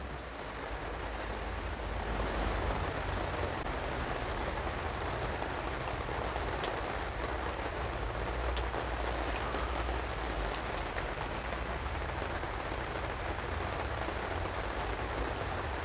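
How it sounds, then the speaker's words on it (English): Heavy rain pours down outside a pub in a steady, dense hiss of drops drumming on surfaces, continuous and fairly loud throughout with no voices. "that's the rain. It is really pissing down now."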